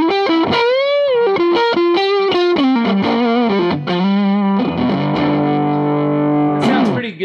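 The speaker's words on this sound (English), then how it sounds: "let's hear it in maybe like a little bit more of a fuzzy sound" Moniker electric guitar played through a fuzz distortion effect, a loud run of picked notes and bends followed by sustained buzzing chords, alone without talk.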